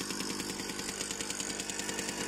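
A Jawa 50 Pionýr moped fitted with a minibike carburettor idles close by, its small two-stroke engine putting out a fast, even putter with a regular pulsing beat and no voices.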